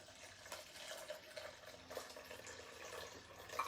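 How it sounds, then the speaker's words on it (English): Water poured from a container into a bowl sitting on a kitchen scale while mixing multigrain sourdough, a soft steady trickling stream with slight splashes, faint and continuous. "So I'm pouring in 400 grams of water."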